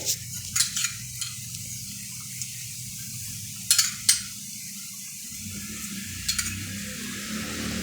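Large puran poli (bobbatlu) sizzles in oil on a pan, a steady soft frying hiss with a few light scraping clicks from turning.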